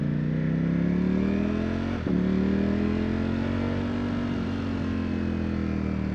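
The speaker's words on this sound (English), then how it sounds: "So I'm going to do a little run today in a circle just to test this bike out." A Ducati V4 Panigale motorcycle rides a loop, its engine droning loud and steady with rising revs, a brief gear-change blip midway, then pulling on smoothly.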